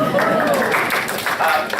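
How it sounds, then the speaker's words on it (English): Audience at a city council candidate forum applauds, with dense, steady clapping from a crowd close by and a voice speaking through it. "There should be applause for that as well."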